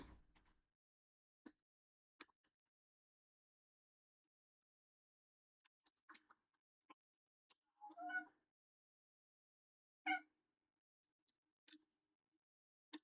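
A cat close by gives a few soft, scattered meows and chirps, separated by long quiet gaps, with small ticks and taps in between.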